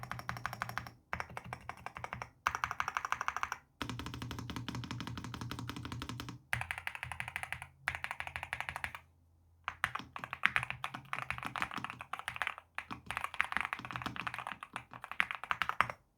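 Tactile switches on a NuPhy Halo65 V2 compact keyboard clatter through a steady typing run, with dense bursts of keystrokes broken by a few brief pauses. The sound is close and moderately quiet, with no voices.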